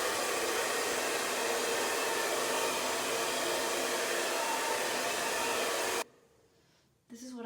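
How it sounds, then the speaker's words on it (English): Hair dryer running steadily and loud while drying hair, a constant broadband whoosh that cuts off abruptly near the end, followed by a brief low fumbling sound as it restarts. "like drying my hair"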